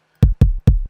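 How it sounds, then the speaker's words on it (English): A punchy kick drum sample from a lofi beat kit, played four times in quick, even succession, each hit a loud close thud with a clicky top end and a short tail. "That's a knocky kick."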